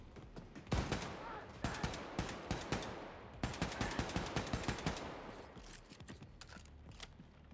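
Enemy gunfire rattles in Wolfenstein II, with dense bursts of rapid automatic shots in close succession at moderate level, pausing briefly and then resuming before thinning into scattered reports.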